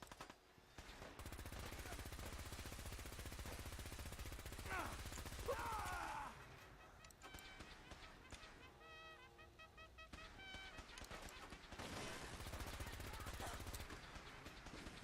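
Rapid gunfire rattles through a Fallout 4 firefight against robots, with dense bursts of shots running for most of the stretch amid game effects and a few whooshing sounds.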